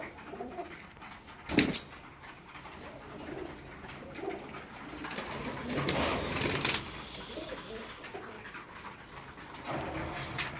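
A male pigeon held in the hand gives soft, faint coos amid quiet rustling and a couple of sharper handling noises, with no talk.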